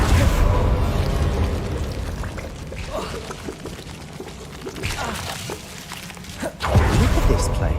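A Confringo blasting spell going off in Hogwarts Legacy, a loud roaring burst of explosive noise over a dense game soundscape, with a second heavy blast near the end and a voice calling out beneath it.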